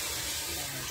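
Tap water running steadily into a basin where fish is soaking for cleaning, a brief close hiss of flowing water.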